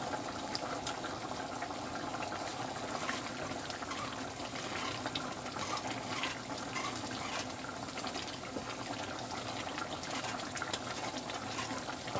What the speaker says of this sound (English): you can hear the beans.